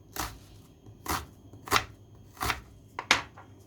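Knife chopping an onion on a cutting board in a home kitchen, five spaced, sharp chops in an irregular rhythm, close and fairly loud with no talking.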